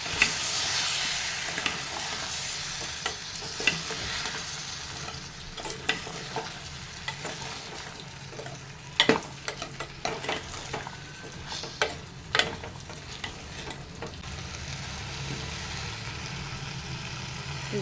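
Vegetable bhaji is stirred in a hot pan with salt and masala, a soft sizzle running under repeated scraping and clattering strokes of a spoon. The stirring grows busier and louder near the middle and there is no speech.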